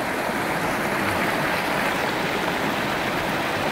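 A river flows in a loud, steady broadband rush of water, constant and close with no breaks and no voices.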